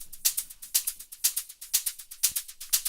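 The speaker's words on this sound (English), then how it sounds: "And all hi-hats together sound like this." Several layered hi-hat loops, including an open hi-hat made from a recorded sound, play together in a fast, steady stream of crisp, sizzling hits with a low thump midway, alone and moderately quiet.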